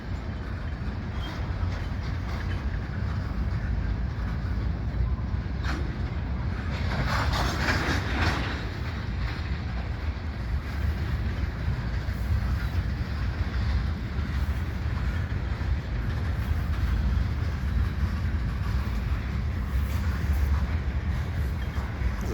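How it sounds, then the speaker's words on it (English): A CPKC oil train shoved by GP38-2 and SD40-2 locomotives rolls past as a steady, moderately distant low rumble with continuous wheel and rail noise. "this train's being shoved by a gp38 and an sd40-2"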